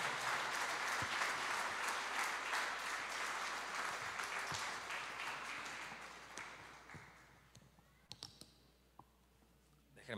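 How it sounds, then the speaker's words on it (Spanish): A church congregation applauds loudly for the Lord, dense clapping that gradually fades over several seconds, leaving a few scattered, isolated claps near the end. "si vas a aplaudir, apláudele fuerte al Señor."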